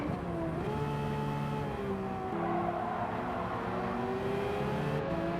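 A race car engine in a racing video game running down a hairpin, a steady droning tone with gear-like pitch steps and a rising whine, continuous and fairly close.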